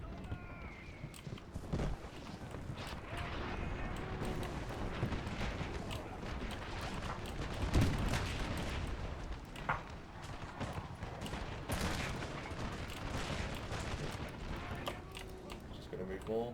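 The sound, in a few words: artillery fire in Napoleon Total War video game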